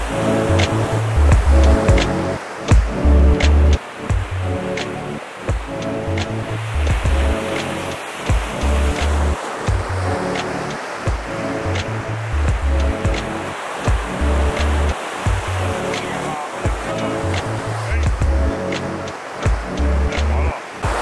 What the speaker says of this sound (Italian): non ho mai visto un mare mosso così con l'acqua chiara e la schiuma che scende